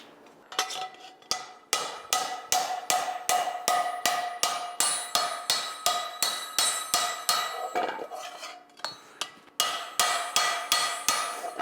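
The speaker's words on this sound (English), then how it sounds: "So these ones are going to get hammered on now, and we're going to take these wrinkles out." A carbon steel skillet is hammered on an anvil to take out wrinkles, with a fast, steady run of sharp, ringing metallic blows close by. There is a brief pause near the end before the strikes resume.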